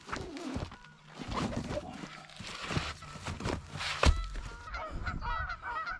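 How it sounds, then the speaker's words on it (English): A flock of geese honks repeatedly and loudly nearby, their calls overlapping in a noisy, continuous chorus. "Whoa, there's a bunch of geese down there"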